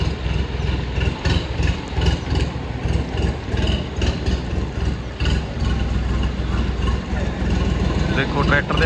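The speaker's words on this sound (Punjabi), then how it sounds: "ਆ ਦੇਖੋ ਆਪਣਾ ਟਰੈਕਟਰ ਆ ਗਿਆ" A tractor engine runs at a steady, throbbing idle close by in a flooded village, while people talk over it.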